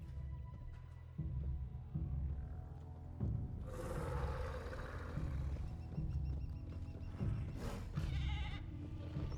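Goats bleat in the Jurassic World Evolution 2 video game, several short calls rising over a low, steady ambient rumble, with brief sharper game sounds in between.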